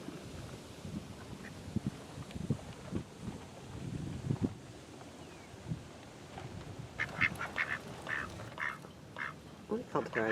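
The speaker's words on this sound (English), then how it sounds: "There's ducks everywhere." Ducks quack in short, scattered bursts at a lakeside Texas campground, close by and moderately loud, with wind buffeting the mic and a person talking in between.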